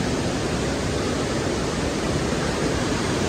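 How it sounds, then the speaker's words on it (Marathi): Steady roar of falling water at a hidden waterfall in Devgad, Kokan, a dense, continuous rush filling the whole clip at close range with no voices. "सर्व पाणी येते ते धबधब्याचं"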